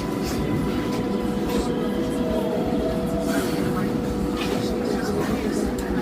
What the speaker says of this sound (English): This is a Brooklyn Bridge-bound 6th train.